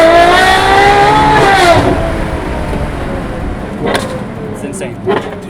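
A Ferrari 812 Competizione V12 with a full titanium exhaust revs hard, a loud, close, rising wail with rich harmonics that peaks and falls away, followed by sharper crackles and pops as it settles.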